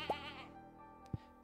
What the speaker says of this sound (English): don't think the goat has milk today.